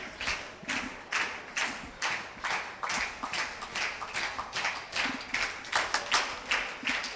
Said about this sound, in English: the clapping starts immediately